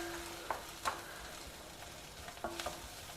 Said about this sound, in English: Fry the onions well with the masalas.